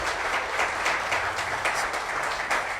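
A church congregation applauds together, a steady dense wash of many hands clapping at once, heard from within the room without any voices over it.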